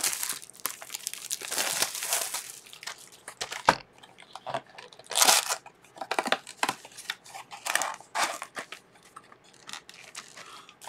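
Walking Dead Hunters & Hunted trading card box wrappers are crinkled and torn open, with a steady run of close, loud crackling and ripping bursts and brief pauses between them.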